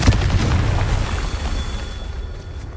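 A Confringo blasting spell explodes in the video game Hogwarts Legacy, a loud booming burst at the start that rumbles and fades over a couple of seconds.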